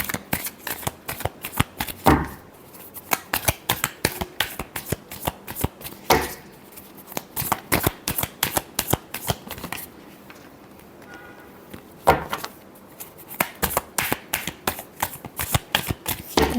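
Tarot cards are shuffled repeatedly by hand, crisp riffling bursts in a fast irregular rhythm with brief pauses between rounds, close and fairly loud.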